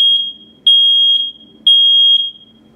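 A Nest Protect smoke alarm runs its smoke test, sounding loud, piercing high-pitched beeps in repeated pulses separated by short pauses.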